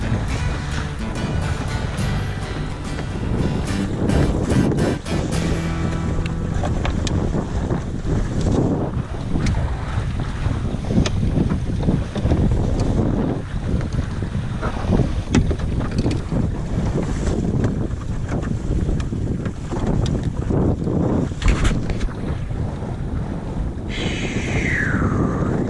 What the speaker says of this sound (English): Directly into the wind and the waves right now